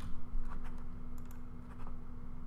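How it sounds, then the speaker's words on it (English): Keys tap on a computer keyboard in a short run of quiet, close, irregular clicks over a steady low electrical hum. "again we can type in PCA test"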